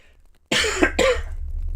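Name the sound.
cough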